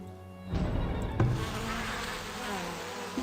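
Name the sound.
bees buzzing in the video game Farthest Frontier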